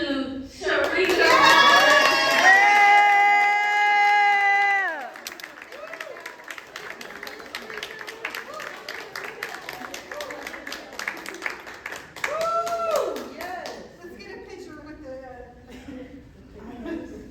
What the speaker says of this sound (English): Let's give a warm round of applause to Sharika.